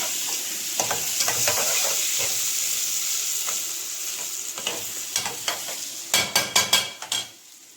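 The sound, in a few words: ghee and oil sizzling in a pot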